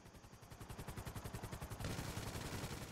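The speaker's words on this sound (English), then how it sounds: "I started shooting" Rapid evenly spaced automatic fire in Grand Theft Auto 5, a steady rattling stream of shots lasting about three seconds, quiet in level and heard alone.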